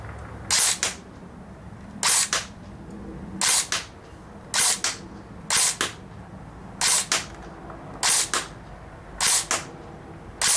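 Airsoft gun firing ten sharp shots at a target, evenly spaced roughly one second apart, each a crisp snappy crack, loud and close with no talking in between; the gun has an upgraded barrel and hop-up.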